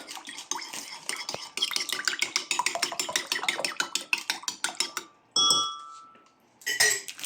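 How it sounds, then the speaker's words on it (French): Eggless tiramisu cream being mixed with a spoon in a bowl, a quick run of rhythmic clinks and scrapes close up, followed by a pause and a couple of louder scraping sweeps. "Je vais bien mélanger avec une cuillère."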